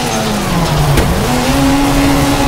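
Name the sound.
Hyundai i20 WRC handbrake turn in WRC 4 video game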